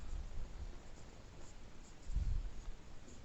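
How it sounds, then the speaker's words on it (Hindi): A pen writes by hand during a lesson on the Indian Constitution's preamble, giving a faint, steady scratching with a slightly louder stroke near the end, close and quiet. "यहाँ पर न्याय लिखते हैं"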